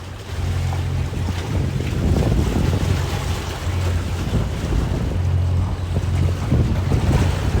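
A sailboat motoring slowly at low throttle while coming in to anchor off Andratx, Mallorca, with a steady low engine drone beneath constant wind buffeting and water wash, no voices.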